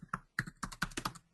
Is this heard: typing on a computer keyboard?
yes